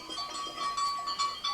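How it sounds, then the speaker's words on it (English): A herd of sheep bleats in overlapping wavering cries, several animals calling at once at moderate distance with a reverberant quality. "Sounds like a herd of sheep."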